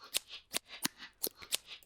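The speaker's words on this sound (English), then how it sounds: "the mic picked up the sort of air moving from the scissors" Scissors snipping, recorded as a foley sample to stand in for hi-hats in dark minimal drum and bass, with a softened attack and trimmed low end. Five crisp, close snips fall at an even pace with airy mid-range between them.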